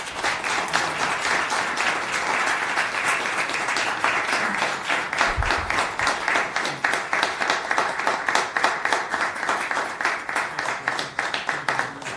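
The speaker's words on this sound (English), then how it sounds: "He really deserves a big round of applause from everyone." An audience at a township council meeting gives a round of applause, steady close clapping that continues for about twelve seconds and grows slightly more rhythmic toward the end.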